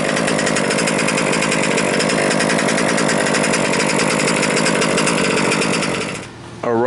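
A Losi 5ive B gas RC car engine runs with a loud, buzzing two-stroke rattle at a steady idle, close up, then briefly dips and picks back up at the end.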